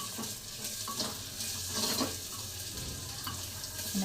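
Thinly sliced raw mango and onion being stirred together in a frying pan, a close, continuous sizzle with intermittent spatula scrapes and no talking.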